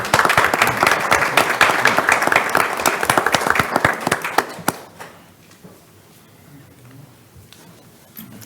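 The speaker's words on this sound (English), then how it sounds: "I think we should give them a round of applause." A crowd at a sanitary district board meeting bursts into loud, steady applause that fades out after a few seconds, leaving a quiet room.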